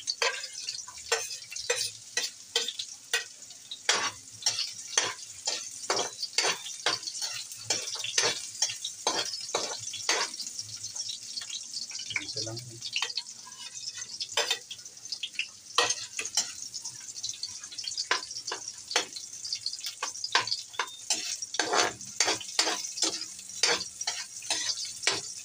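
Ginger and garlic fry in a pan until golden brown, giving a steady close sizzle punctuated by frequent sharp ticking stirs and clicks of a utensil against the pan.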